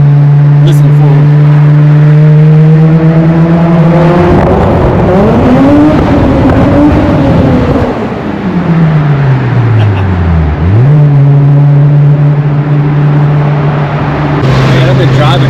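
A loud car engine with flames popping from the exhaust drones steadily, surges and dips in pitch as it revs, then settles back to a deep idle rumble.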